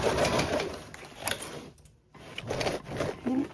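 A sewing machine stitches over a duffle bag handle in quick rapid bursts of mechanical chatter, stopping briefly in the middle before running again, close and fairly loud.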